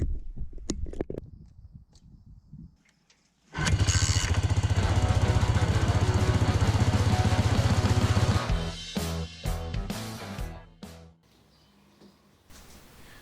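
A crash-damaged 1999 Yamaha Vmax motorcycle cranks and fires up, its engine bursting into a loud, steady rumble for several seconds before dropping back and stuttering through a few uneven revs, all close by with no talking.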